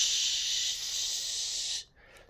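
Air hisses steadily and loudly through a Ford AU 4-litre Intech SOHC engine as a constant broad hiss like an air gun, then cuts off sharply near the end, leaving near silence.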